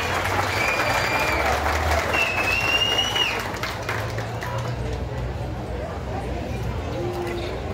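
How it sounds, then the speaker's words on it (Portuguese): Audience applause at an award ceremony in Tiros, Minas Gerais, handing out the Zeca Bom Tempo honor, with dense clapping running loud through the first half and then continuing somewhat softer, with faint murmuring and a low hum underneath. "Aplausos ao Belchior José da Silva."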